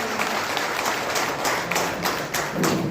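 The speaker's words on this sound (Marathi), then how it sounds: "आपण जोरदार टाळ्यांचा पाऊस चालू आहे" A crowd at a village council gathering in Maharashtra applauds loudly, a dense, sustained patter of many hands clapping at close range with no break.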